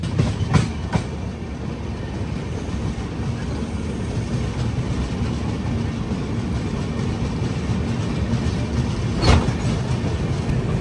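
A train rumbles steadily along the rails near Bapatla railway station, broadband and continuous, with a couple of sharp metallic clacks standing out near the start and end.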